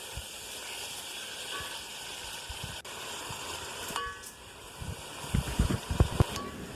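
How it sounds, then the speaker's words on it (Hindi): Minced meat fries in onion and oil for keema aloo matar, giving a steady soft sizzle and hiss, with a few louder stirring clatters and scrapes near the end. "प्याज और ऑयल में बहुत अच्छे से कीमा भून लेना है"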